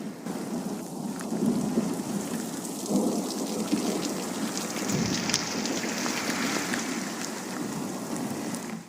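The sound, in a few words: hailstorm with hail and floodwater in street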